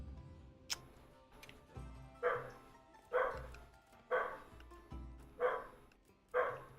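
Dogs barking indoors at home, a string of five or six evenly spaced muffled barks, each with a thump, heard at moderate distance and fairly quiet, with no speech over them.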